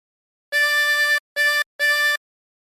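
A harmonica draws on hole 4 three times during "Waltzing Matilda": a longer reedy note followed by two shorter ones, clean and isolated, with brief silent gaps between.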